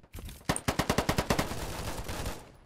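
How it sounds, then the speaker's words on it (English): Rapid AK-47 automatic fire in the Polygon shooter game on PC, a burst of about ten quick cracking shots that fade into a trailing echo, moderately loud and alone. "I can hear that AK-47 from somewhere."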